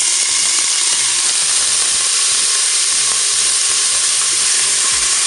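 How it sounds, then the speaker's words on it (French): Onions dropped into hot oil in a Cookeo multicooker, producing a loud, dense, continuous sizzle and hiss that holds steady from start to finish, close up and with nobody talking. "mon huile est chaude, je vais pouvoir mettre mes oignons"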